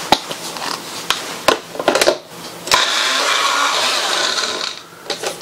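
A small 200-watt blender chops onion for scrambled eggs in an RV. A few sharp clicks and bumps come first, then a steady, close mechanical whir runs for about two seconds before stopping.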